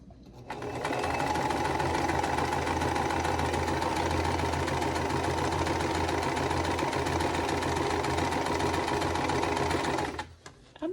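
A sewing machine stitches quilt block pieces for a vintage basket block, one long steady run of rapid, even whirring, close and loud, stopping near the end with a light clunk.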